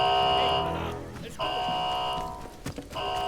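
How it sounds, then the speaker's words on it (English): An alarm blares in the Atomfall video game, a loud repeating buzzing tone that pulses on and off over background noise and footsteps, with talking partly over it. "I think you have to turn off the alarms from that main area."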